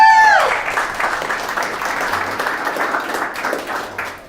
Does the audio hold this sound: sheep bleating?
no